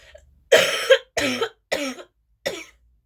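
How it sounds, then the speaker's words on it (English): Four sharp coughs in a row, the first strongest, each brief and close with short silences between. "I wish this cough would go away."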